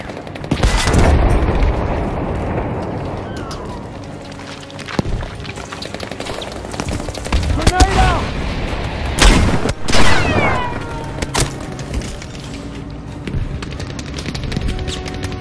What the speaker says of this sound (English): We need a barrage right away.